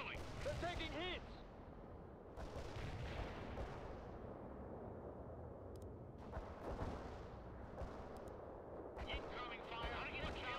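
Gunfire and artillery from the strategy video game World in Conflict: Soviet Assault pound continuously, with dense booming blasts and rattling shots mixed under shouted in-game voice lines.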